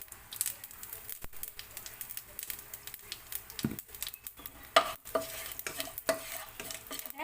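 Cumin seeds and asafoetida crackle and sizzle in hot oil while a spoon stirs and scrapes the pan; a voice speaks over the cooking noise.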